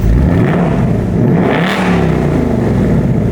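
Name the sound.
Ford Mustang S650 GT active exhaust revving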